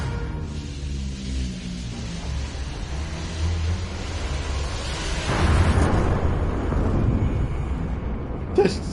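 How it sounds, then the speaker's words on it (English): A video game explosion in Dolmen booms and rumbles loudly, a broad roaring blast that swells midway and lingers for several seconds with a crackling tail. "This explosion looks like it's from a PlayStation 1 game"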